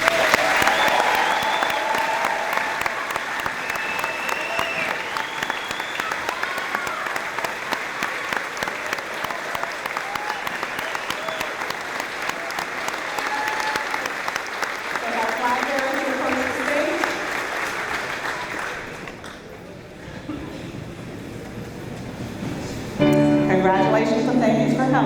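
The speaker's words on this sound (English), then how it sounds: "I think we owe this class a rounding round of applause" A graduation audience at Stafford applauds the class in steady, sustained clapping for about twenty seconds, fading briefly before a voice starts speaking near the end.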